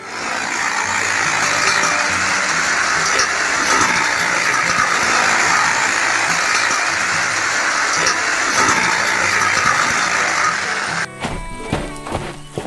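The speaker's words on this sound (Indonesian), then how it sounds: "Traktor hijau menarik trailer penuh kayu, berjalan di sekitar peternakan yang ramai dan ceria." A green tractor tows a trailer loaded with wood around a busy farm, its engine a loud, steady droning roar that holds for several seconds before breaking off abruptly near the end.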